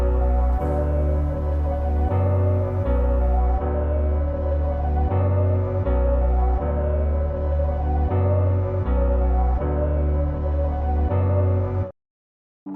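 Chord progression on layered synth and keyboard sounds with a deep pulsing bass that changes every couple of seconds, steady and full throughout, then cutting off abruptly near the end, with no voices.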